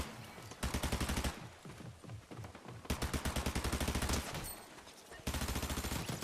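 SMG gunfire in the video game Fortnite, bursts of rapid rattling shots in several volleys with short pauses between, loud and close against a steady game background.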